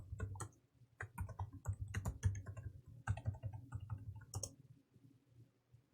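Fingers tap out a login name and password on a computer keyboard for a Linode server, a close, quiet run of irregular clicks in short bursts with brief pauses between.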